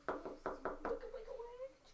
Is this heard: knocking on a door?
yes